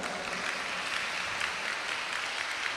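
A nun clapping her hands in a steady, dense patter of claps, close and continuous throughout, with no speech over it.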